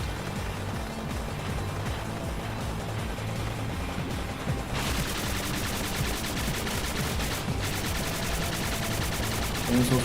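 Continuous rapid-fire shooting in the platform game Spark the Electric Jester 3 forms a dense, steady rattle that grows louder and brighter partway through.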